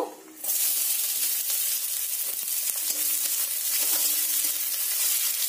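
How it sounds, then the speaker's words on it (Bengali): Chopped onions, dropped into hot oil with a bay leaf, set off a loud, steady, close sizzle that holds evenly for several seconds. "এবার যে পেঁয়াজগুলো কুচিয়ে রেখেছিলাম সেই পেঁয়াজগুলো সব দিয়ে দেব।"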